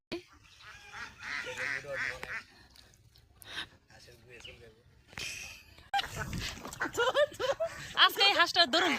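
Ducks on a village wetland thick with water lilies give loud, repeated honking quacks nearby, clustered in bursts, with a person talking over and between the calls.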